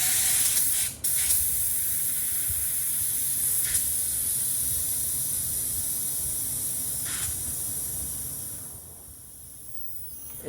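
A hand-pumped pressure sprayer releases soapy car-cleaning solution in a steady, close hiss that carries on for several seconds, stutters briefly at the start and then tapers off softer near the end.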